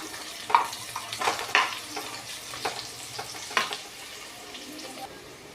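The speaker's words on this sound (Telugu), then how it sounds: "జీడిపప్పు కొంచెం వేసుకున్నాను కొంచెం వేగనిద్దాం" Cashew nuts frying in a pan of oil for veg biryani, a soft continuous sizzle broken by a few sharp stirring scrapes and crackles, close and moderately loud with no one speaking.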